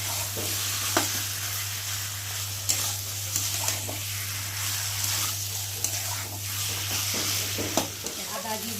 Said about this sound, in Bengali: মশলাটাকে একটু সময় ধরে কষাবো কেননা যত কষাবে তত টেস্টি হবে